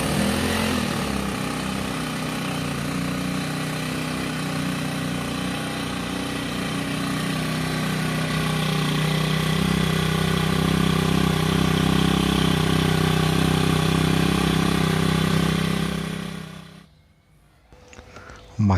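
Fengke 4-stroke multipurpose grass cutter engine running at a steady idle, then revving higher with a rising drone before cutting off near the end, close and loud.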